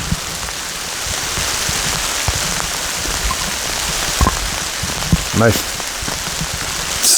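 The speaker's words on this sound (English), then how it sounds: "Now it's dumping out." Heavy rain pours down in Adirondack woods, a dense steady hiss of drops on leaves and surfaces, with a few brief words spoken and some nearby knocks and rustles.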